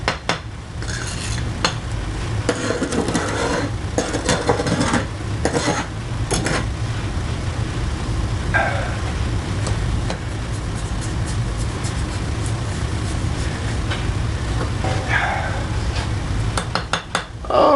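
Tool scraping and stirring refractory mix inside a container, a continuous gritty churning with rhythmic knocks against the sides, loud and close, with no speech.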